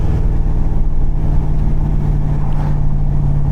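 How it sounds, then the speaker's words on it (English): A Camaro Z28 V8 with a leaking exhaust drones steadily while driving, a loud, low rumble with a constant hum and no speech. "this is, the exhaust leaking is definitely my fault though"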